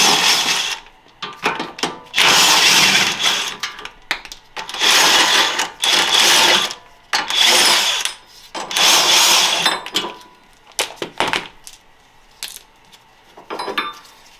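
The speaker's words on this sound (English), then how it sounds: "I'm going to use an impact, just like I showed you before" An impact wrench removes bolts from the front strut of a Nissan 370Z, rattling in several loud, close bursts of a second or two each, separated by short pauses.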